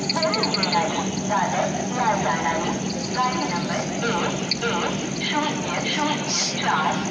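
A train pulls into a station, a steady rumbling wash of wheels and carriages running throughout under continuous crowd chatter and voices nearby.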